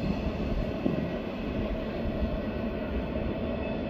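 A BNSF geometry train rolling eastbound past La Posada in Winslow on the near track, a steady loud rumble and wheel roar that holds evenly for the whole stretch, with no voices.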